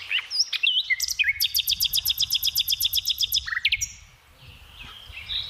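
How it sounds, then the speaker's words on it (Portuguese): Macaws call from a tree in a forest, giving a bright run of rapid repeated chirping notes up close, followed by scattered single calls, with no people talking. "Aqui tem mais de 9 araras"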